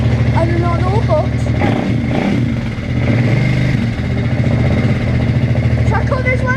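Motorbike engine running close by, a loud, continuous mechanical drone with some clatter, while people talk over it throughout.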